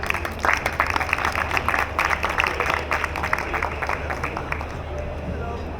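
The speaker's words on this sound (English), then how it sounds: "We can give one more time a big round of applause to Cédric" A conference audience gives steady, full applause after a Sigfox keynote on the BDL Accelerate 2016 stage. The crisp clapping carries on for several seconds while voices talk over it, then thins out toward the end.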